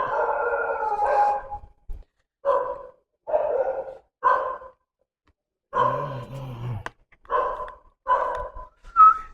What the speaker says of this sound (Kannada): ನಾಯಿಗಳು ಬೇರೆ ಬೊಗಳ್ತಾ ಇದ್ದಾವೆ.